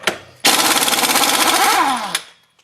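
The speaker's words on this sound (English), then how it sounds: "So let's see if the impact will do it." A pneumatic impact wrench hammers in one loud, rapid burst lasting under two seconds, loosening a wheel hub nut, then winds down, with a short air hiss before and after.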